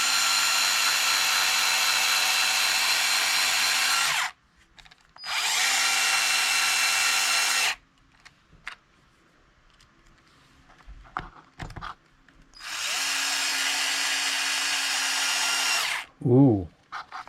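A power drill drives long screws, whining at high speed in three long sustained runs, with pauses filled by clicks, light handling noise and brief talk.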